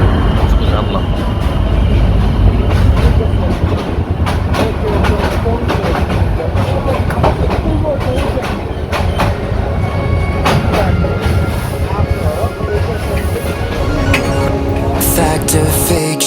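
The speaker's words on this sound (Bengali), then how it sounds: "এর মধ্যে আমাদের ট্রেনটাও চলে আসছে" A train running from Dhaka to Chittagong gives a loud, continuous rumble with rattling and clatter throughout, while voices come and go over the din.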